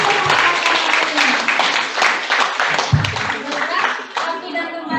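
Audience clapping at a seminar breaks out loud and close, a dense burst of applause with scattered voices and a child's chatter underneath, tapering slightly toward the end.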